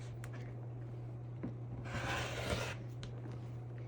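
Rotary cutter or blade trimming the edge of a quilt block, a quiet brief rasping slice lasting under a second, close and soft over a steady low hum.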